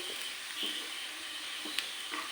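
Onion sautéing in ghee, a soft steady sizzle close to the pan with faint stirring scrapes now and then.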